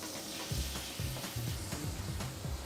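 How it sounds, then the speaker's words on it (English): Tomatoes sizzle in a pan of olive oil and softened garlic, a quiet steady frying hiss with low scraping stirs of a utensil against the pan. "just going to chuck the tomatoes in"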